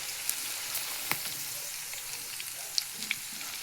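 Sliced okra fries in a pan with a steady, close sizzle and crackle, with occasional small pops rising from the oil.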